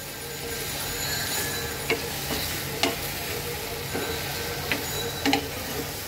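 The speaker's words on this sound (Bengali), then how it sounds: "বেগুনটা আমি ভাজি সুন্দর করে" Brinjal (eggplant) pieces frying in oil in a pan, giving a steady close sizzle broken by several sharp clicks and scrapes of a spatula.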